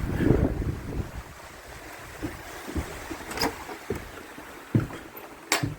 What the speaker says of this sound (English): The wind's eased off a fair bit, but yeah, not going out in this shit.